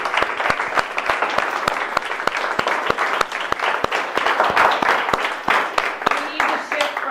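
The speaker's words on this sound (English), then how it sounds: "Let's give yourselves a round of applause." Applause fills a room at a nurses' town hall on medical freedom, a dense steady crowd clapping with sharp individual claps standing out and a voice speaking underneath.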